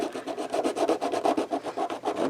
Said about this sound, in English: I have sort of a homemade sanding block here.